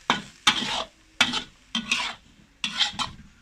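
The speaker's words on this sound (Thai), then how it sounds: "นี่นะเราก็ใส่เกลือนะครับ แล้วก็คั่วต่อไปนะครับ" Silkworm pupae dry-roasted with salt in a pan, rhythmic scraping stirs in about five bursts, each a loud rasping sweep close by with brief pauses between.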